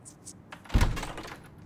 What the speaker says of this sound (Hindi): दरवाजा खोल दोगी प्लीज?